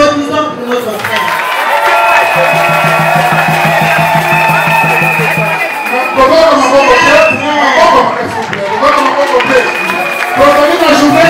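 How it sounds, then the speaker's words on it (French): A loud crowd cheers, whoops and claps for a Congolese singer at a ceremony, with music and shouting mixed in and voices over the noise throughout. "Applaudissons pour notre frère."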